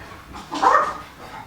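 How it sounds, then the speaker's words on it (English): Somewhere in a house, a dog lets out a single muffled bark at a middling distance, set against a low, steady background. "Sorry about the dogs, guys."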